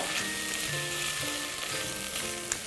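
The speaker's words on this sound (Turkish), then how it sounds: "Şimdi şöyle bir patateslerle birlikte de çeviriyorum." Potatoes fry in a pot with a steady close hiss of sizzling oil, stirred now and then with a faint scrape near the end, while broccoli soup is being made.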